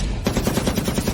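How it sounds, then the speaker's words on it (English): Rapid automatic gunfire in a zombie siege inside a lab, loud steady bursts of shots firing in a fast even rhythm, close and dense with no voices. "Gunfire, explosions, and zombie roars."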